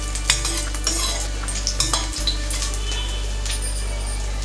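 Cardamom, cloves, bay leaves and cashews fry in a pan, giving a steady close sizzle of hot oil, broken by several sharp clinks and scrapes from a stirring spoon against the pan.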